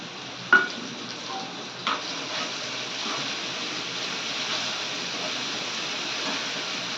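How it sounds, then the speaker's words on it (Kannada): Chopped tomato goes into a hot frying pan of browned eggplant omelette mixture, with a couple of soft thuds as it drops in, then a steady, moderate sizzle that carries on alone. "ಈಗ ನೋಡಿರಿ ಟೊಮೆಟೊ ಕಟ್ ಮಾಡಿಕೊಂಡು ನಾನು ಹಾಕ್ತಿದ್ದೀನಿ"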